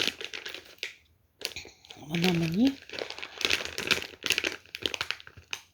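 Plastic bag crinkles and rustles in quick bursts close to the microphone while someone speaks softly over it, storing a hair braid while sorting a cosmetics bag.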